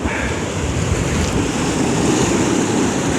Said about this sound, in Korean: 지금 너울성 파도가 너무 심해서